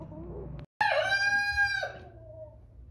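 A 21-week-old Chantecler x Bresse chicken gives a single close, clear crow lasting about a second, after a brief rustle, followed by quiet background.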